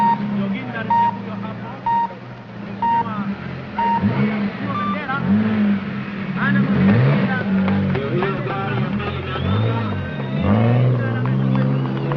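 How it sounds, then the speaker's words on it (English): A Mercedes 280E Saloon rally car at the 1979 Safari Rally in Kenya drives past with a steady engine drone, while a narrator talks over it and a few beeping tones sound early on. "Car number 2, a Mercedes 280E Saloon"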